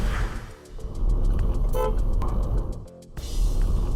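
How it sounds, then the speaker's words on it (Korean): A car horn blares from a dashcam car on the road, loud and close, with engine and road noise underneath. "불박차 운전자가 빵 하고 클락션을 누를 때입니다"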